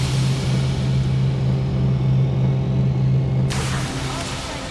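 A spaceship launching in Elite Dangerous gives a steady deep engine rumble with a low droning hum, then a sudden brighter hiss of thrust near the end, close and sustained, with a voice talking over it.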